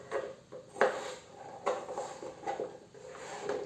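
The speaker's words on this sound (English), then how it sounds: "I'm cutting into this smaller size to enable it to cook very fast, quickly." A knife cuts potatoes into small pieces on a board, producing a steady series of soft, close chops roughly every second or so, fairly quiet with no talking.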